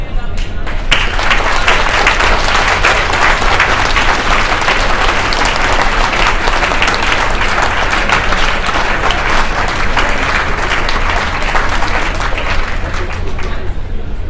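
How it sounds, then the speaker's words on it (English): A banquet crowd at a scientific conference gives a loud, sustained round of applause for volunteers, dense clapping filling the room throughout with a faint murmur of voices beneath. "stand up so we can give you a round of applause"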